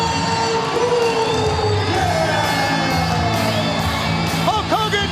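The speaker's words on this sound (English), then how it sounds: "Listen to the crowd." A large wrestling arena crowd at WCW Uncensored 2000 cheers and whoops, a continuous roar of many voices with scattered shouts and rising yells, fairly loud and distant-sounding, with no clear talk on top.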